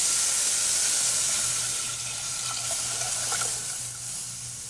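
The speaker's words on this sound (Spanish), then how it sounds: "Vamos a agregar la leche." Milk pours steadily into a cooking pot for a children's cough remedy, a soft continuous liquid stream lasting several seconds and gently fading toward the end.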